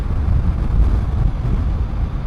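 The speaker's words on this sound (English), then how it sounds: "So far it's been very challenging with the actual elements, the wind." Wind roaring past while riding a motorcycle on a long-distance endurance ride through dry country, a steady, close, low buffeting rumble with no pauses.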